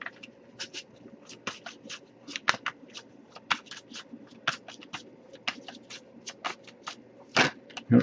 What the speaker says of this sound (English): if I shuffle for a while without anything coming up